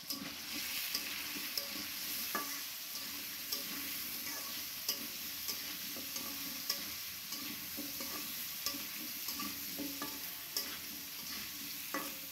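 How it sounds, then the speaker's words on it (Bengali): Vegetables with chili and salt frying in a pan, a steady soft sizzle punctuated by regular scraping and clinking stirs of a utensil, moderately quiet with no talking. "এগুলো ভেজে নেব।"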